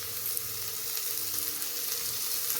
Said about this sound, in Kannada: ಚೆನ್ನಾಗಿ ಫ್ರೈ ಮಾಡ್ಕೊಳ್ಳೋಣ ಸಬ್ಸಿಗೆ ಸೊಪ್ಪನ್ನ